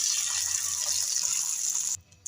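Water pours steadily into a cooking pan holding onions and green chilies, a close gushing rush that stops abruptly near the end, with no talking.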